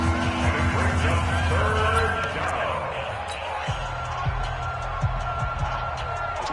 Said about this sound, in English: this crowd urging on their defense. They're up and making noise.